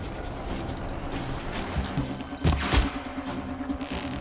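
Compound bow arrows strike an enemy's head in the video game Horizon Zero Dawn, two sharp impacts in quick succession standing out over a low mechanical ambience and faint clicking.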